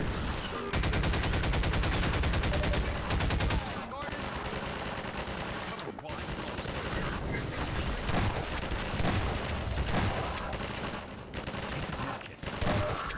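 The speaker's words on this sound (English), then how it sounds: "You stop shooting." Rapid automatic gunfire in a first-person shooter video game, either Half-Life 2 or Prey, rattles loud and close in sustained bursts, broken by a few short pauses and mixed with game effects.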